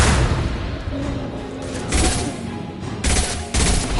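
Gunfire in the video game Mass Effect 2 sounds as rapid bursts of weapon fire over dense combat noise, with several louder blasts spaced across the stretch and no speech.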